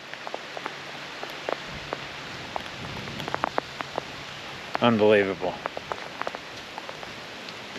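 Steady rain patters on a surface outdoors in California, a dense hiss scattered with sharp drop clicks throughout, while a single short spoken exclamation cuts in near the middle.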